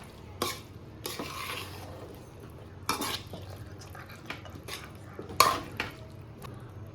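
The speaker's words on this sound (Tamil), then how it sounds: "ஃபைனலாக இந்த ஆனியனை போட்டு அடுப்பை ஆஃப் ஆஃப் பண்ணிடலாம்" Onion being stirred and fried in a pan of lemon chicken, with a steady sizzle under several scraping strokes of a spoon against the pan, close and clear, with no talk.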